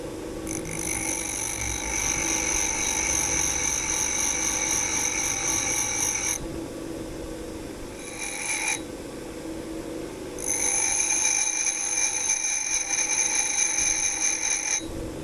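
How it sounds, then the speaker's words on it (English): A chipped drill bit being sharpened on a grinder after cutting into stainless steel, a steady high-pitched grinding whine that runs for several seconds, stops briefly, then resumes loud and close. "Chip the drill. Let's give it a sharpen."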